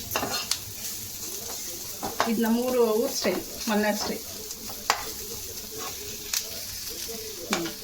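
A tempering for fish curry sizzles and crackles in a pan while a spoon stirs and scrapes against the metal. A voice talks over the frying partway through.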